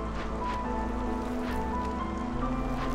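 Steady game rain of the drizzle season in Against the Storm, a continuous hissing patter under a low ambient music bed, even and moderately loud throughout.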